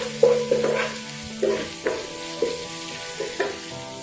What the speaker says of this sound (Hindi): इन सब चीज़ों को अच्छे से फ्राई करेंगे